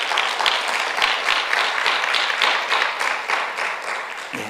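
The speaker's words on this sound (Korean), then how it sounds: "우리 하나님께 영광의 박수를 돌리십시다." A church congregation applauding together, a loud, dense burst of clapping that holds steady for several seconds and then eases off slightly.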